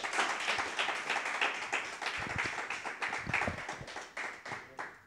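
A comedy club crowd claps steadily, a dense patter of many hands with a few louder individual claps standing out, fading slightly toward the end.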